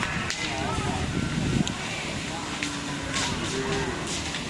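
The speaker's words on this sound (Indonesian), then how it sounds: "Sapi putih." A white cow on Sapudi Island moos amid a crowded outdoor gathering, low drawn-out lowing calls rising over constant chatter and crowd noise, with people talking nearby.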